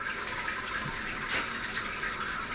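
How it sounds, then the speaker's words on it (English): Hot wort draining from a Grainfather grain basket into the boil kettle during homebrewing, a steady close splashing trickle of liquid running continuously with no talk. "We're draining the grain basket into the boil kettle now"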